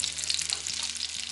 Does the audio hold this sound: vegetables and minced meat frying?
yes